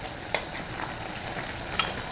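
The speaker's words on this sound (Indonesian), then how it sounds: "Kita aduk dulu minyak wijennya supaya tercampur rata ya." Sesame oil being stirred into mapo tofu in a home pan, with a steady low sizzle and a couple of soft utensil scrapes, close and fairly quiet with no talking.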